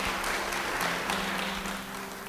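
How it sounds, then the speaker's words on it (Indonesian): A church congregation applauds during an Indonesian sermon, a steady, moderately loud wash of clapping with a low hum underneath that fades slightly toward the end. "Yang setuju beri tepuk tangan bagi dia."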